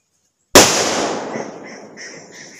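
A firecracker lit to scare jackals bursts with a single sharp, loud bang, followed by a crackling, decaying rumble and faint scattered pops as it fades; no talking.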